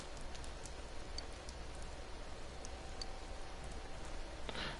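Steady rain falls in a video game near a shrine, a continuous soft hiss of drops with faint scattered ticks, fairly quiet and even throughout with no talk.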